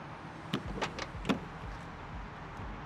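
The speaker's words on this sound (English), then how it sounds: "That is a really heavy tail door" The heavy tailgate of an Ineos Grenadier Quartermaster pickup truck is handled, giving a few faint metallic clunks and latch clicks in quick succession, then a quiet stretch.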